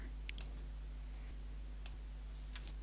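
A computer mouse clicks a link in a PowerPoint 2016 presentation on Windows, giving a few sharp, light clicks scattered over a few seconds against a steady low hum.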